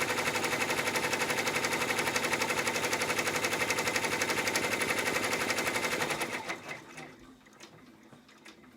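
An embroidery machine stitches a tack-down line on an in-the-hoop zipper wallet, a steady rapid mechanical whirring close by for about six seconds before it stops and fades to quiet handling noises.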